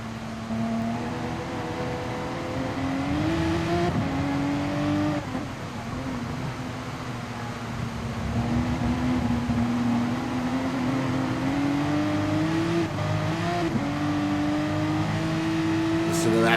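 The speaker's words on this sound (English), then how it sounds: "Listen to that flat six struggling to put over 500 horsepower to the ground" A flat-six race car engine of over 500 horsepower in a racing video game, droning steadily at high revs with pitch climbing and dropping through gear changes, loud and continuous, with a commentator talking over it.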